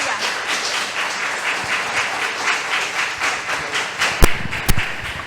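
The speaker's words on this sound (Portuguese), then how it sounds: "Uma salva de palmas bem forte" Church congregation applauding during a Sunday evangelical service, a dense wash of clapping filling the space at a steady level, with a couple of sharper claps or knocks standing out near the end.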